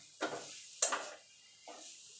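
Chhana milk curd being stirred in a pan over low to medium heat for kacha golla, three separate scraping strokes with a soft sizzle, close and fairly quiet with pauses between them.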